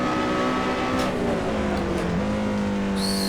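A supercharged Lotus Elise SC lapping Laguna Seca, its engine droning loud and steady from close by, pitch sliding up and down through gear changes, with a brief tyre squeal near the end and no talk.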